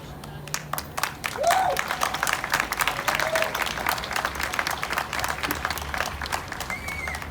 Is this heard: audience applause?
yes